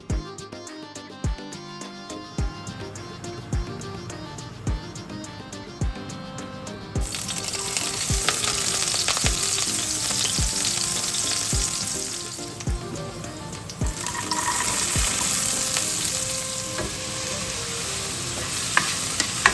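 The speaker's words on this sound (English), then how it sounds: "Heat some oil in a pan and saute chopped green chilies and 2 chopped onions until they are translucent" Oil sizzles steadily as chopped green chilies and onions are sautéed in a pan, with regular clacks of a spatula and the frying growing louder midway.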